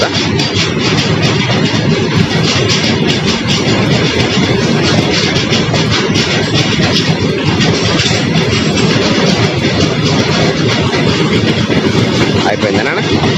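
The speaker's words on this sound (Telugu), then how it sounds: "గూడ్స్ ట్రైన్ చాలా పెద్దగా ఉంటుంది." A long goods train of about eighty wagons passes through Karimnagar railway station, a loud, steady, close rumble with rapid clickety-clack of the wheels going on without a break, and voices faintly under it.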